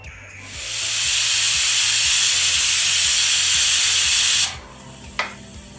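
A loud, steady hiss of steam venting from a pressure cooker of mutton curry lasts several seconds, then cuts off abruptly, followed by a brief faint clink.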